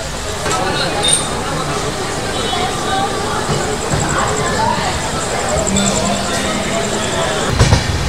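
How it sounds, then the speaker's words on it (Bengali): Steady rumble and rattle of the Radhikapur–Kolkata Express (13146) departing Raiganj station and rolling along the rails, with a faint high whine and a few clanks, while people talk nearby. "একেবারে রাইট টাইমে ট্রেন ছাড়লো রায়গঞ্জ স্টেশন"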